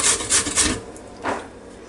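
A carrot is rasped against the grating side of a grater in a kitchen, four quick scratchy strokes, three in fast rhythm then a pause before one more, close and fairly loud.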